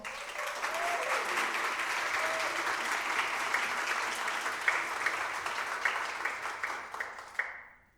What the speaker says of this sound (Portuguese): vamos pedir uma salva de palmas para ela